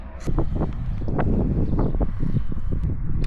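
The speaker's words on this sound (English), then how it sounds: "Quite a bit of wind today as well." Wind buffets the microphone during an outdoor road cycling ride, a loud, continuous low rumble with gusty swells.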